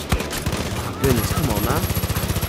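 Rapid sustained gunfire in the video game Far Cry 5, a dense automatic rattle of shots with a continuous rhythmic burst in the second half, loud and close amid game noise.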